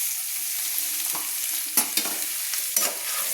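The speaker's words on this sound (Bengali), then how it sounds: "আমি একটু ভালো করে নেড়ে নিচ্ছি খুন্তি দিয়ে" A spatula stirs turmeric into a sizzling cabbage curry in a pan. A steady frying hiss runs underneath, and several sharp scrapes and knocks of the spatula come close together toward the end. No one speaks.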